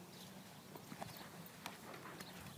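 Horse cantering around an indoor riding arena, soft muffled hoofbeats in an uneven rhythm, faint and somewhat distant against a low background hiss.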